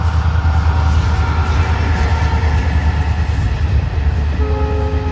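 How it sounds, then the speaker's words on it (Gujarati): A train passing near a farm field, a loud, steady rumble of wheels and carriages close by with a sustained horn-like tone throughout. "આમ ટ્રેન આવી ગઈ જો એવી મસ્ત મજાની ટ્રેન જાય છે જો"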